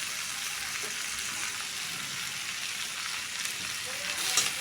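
Sugar, chopped garlic and onion frying in oil, a steady close sizzle like light rain with a few faint stirring knocks near the end.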